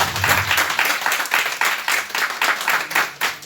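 An audience at a Raja Yoga program claps in a lively, fairly close round of applause, with a slightly pulsing rhythm that continues without a break.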